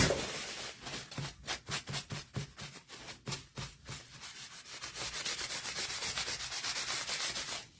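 Hand sanding along the edges of a wooden layered farmhouse sign to distress it: rhythmic back-and-forth rasping strokes, close and fairly loud, settling into faster continuous scrubbing toward the end.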